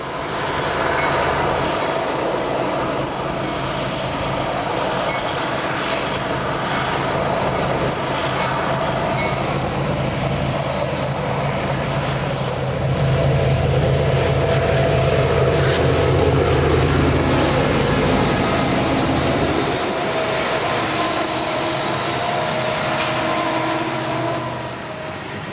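Union Pacific train rolling past on the Sunset Route, a long loud rumble of wheels and cars with tonal horn and engine hum, building in the middle and then fading as it moves on.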